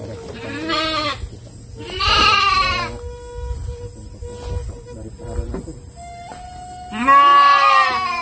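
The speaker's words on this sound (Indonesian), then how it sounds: "Domba bukan embe." Several loud, wavering bleats from Garut sheep in a village, coming in separate bursts near and far, with a soft voice and faint rural background between the calls.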